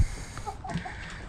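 A few soft clucks from chickens close by, brief and scattered over a low background hum.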